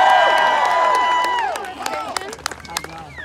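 A crowd cheers and shouts for the Montana team at a live event, loud at first and then thinning into scattered whoops and claps.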